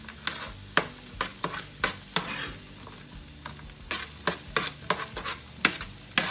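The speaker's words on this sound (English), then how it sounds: "stir this around just a little bit until it's a little bit tender" Food sizzles in a pan over medium-high heat while a utensil stirs it, each stroke landing as a sharp scrape or clack over a low, steady crackle, close and fairly loud.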